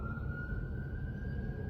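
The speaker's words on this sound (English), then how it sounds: "Oh, it's a fire truck." A fire truck siren wails outside as a steady high tone, fairly distant and moderately quiet over a low rumble of traffic or room noise, holding pitch without much rise or fall across the short moment.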